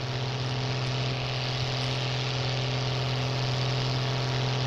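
A modified tractor engine in Farming Simulator 19 runs steadily under load, a loud continuous droning hum with a strong low tone and no break or change.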